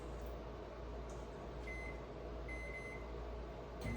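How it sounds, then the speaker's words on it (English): In a home kitchen, a microwave oven runs with a steady low hum and whir, with faint intermittent beeping tones over it. "I'm gonna put this in the microwave."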